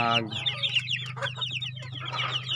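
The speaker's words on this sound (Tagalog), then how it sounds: "may bagong sisiw pala tayong broiler guys" Broiler chickens and young chicks cluck and peep close by in a short burst of overlapping calls, with a soft low hum underneath.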